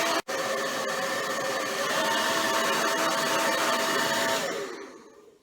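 A steady, loud whirring blower, like a hair dryer, runs for several seconds to dry wet paint on a plaster heart, then spins down and fades out.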